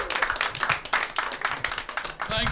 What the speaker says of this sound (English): More clappies, more claps.